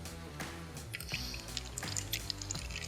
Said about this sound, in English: The oil will start to drain out of it once you get the seal to break free.